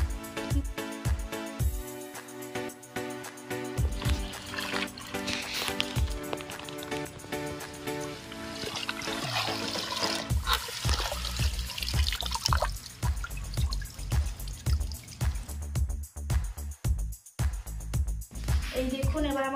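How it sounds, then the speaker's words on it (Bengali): Taro stalks and leaves are washed in water, with running and splashing water, dripping and repeated handling knocks and thuds continuing throughout, loud and close, as someone talks over the sound. "তো এরপর আমি এই তল্লি খাড়াগুলো এবার জলের মধ্যে দিয়ে ভালো করে ধুয়ে নেব।"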